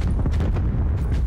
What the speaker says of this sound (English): Ooh, there's a nade, so it's close by.